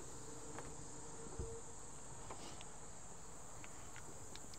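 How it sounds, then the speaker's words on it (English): Locusts drone outdoors in a constant high, even buzz that continues without a break, faint and distant, with a few soft ticks and knocks nearby. "The locusts are very noisy today."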